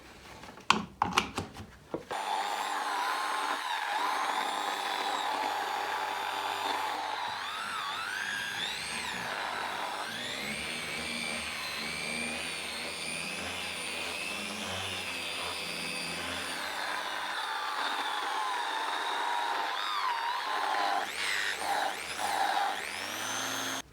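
A repaired triangular detail sander runs steadily with a high, whiny motor drone and buzzing vibration, close and loud, after a few brief knocks and clicks at the start.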